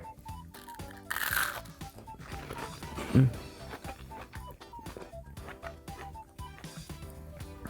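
Crunchy 1970s homemade shrimp toast with water chestnuts gets bitten, giving one loud crisp crunch early on and a second chewy crunch later, heard close over steady background music.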